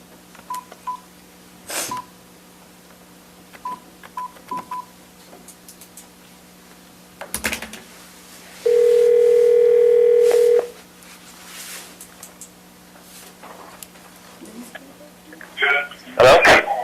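Telephone call-back during a county council meeting: scattered single keypad beeps, then a loud steady dial tone lasting about two seconds, followed by faint clicks and a brief burst of noise at the end.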